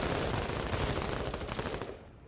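A squad opens fire on enemies in a video game, a loud, rapid stream of automatic gunfire rattling continuously before cutting off abruptly near the end.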